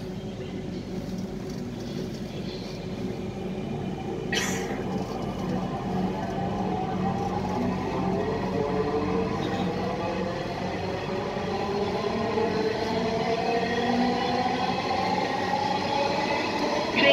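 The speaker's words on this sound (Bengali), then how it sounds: "This train is bound for Motijheel." Dhaka metro train at a station, a steady low rumble that builds slightly as it arrives, with a brief hiss near the start and continuous wheel and motor noise, no talking.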